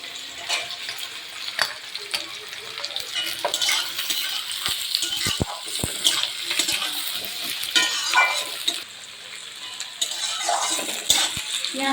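Chopped onions fry in hot oil with whole cloves, cinnamon and cumin, giving a steady close sizzle broken by scattered stirring clinks and scrapes of a spoon.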